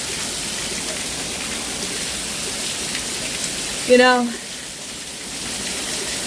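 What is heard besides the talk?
rain falling outdoors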